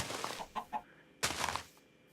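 Chicken clucks in the game Minecraft, a few short bright calls near 0.5–0.8 s followed by a louder burst around 1.2–1.6 s, close and clear with no talk.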